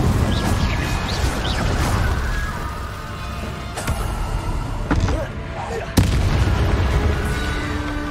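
A fire spell cast in Hogwarts Legacy bursts out in loud booming, crackling blasts, with sharp impacts near four, five and six seconds over steady game rumble.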